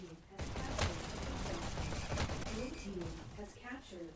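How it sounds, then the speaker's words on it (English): Dual SMG fire in a VR esports shooter match, rapid bursts of gunfire mixed with game effects under an energetic commentator talking throughout. "gets taken out by Airwolf with the dual SMGs"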